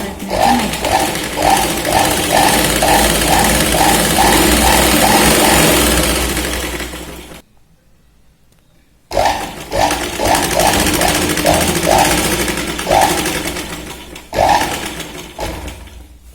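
Sewing machine running in steady bursts while double-stitching a baby girl's t-shirt, its rapid mechanical chatter loud and close, pausing to silence around halfway before starting again in two more runs.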